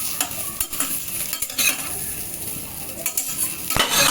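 Ingredients for a jackfruit curry frying in a pan, a loud close sizzle with repeated spatula scrapes and clinks of utensils against the pan, no talk.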